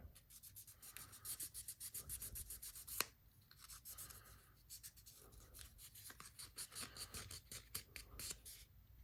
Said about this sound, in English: 3000 grit is good at smoothing plastic out.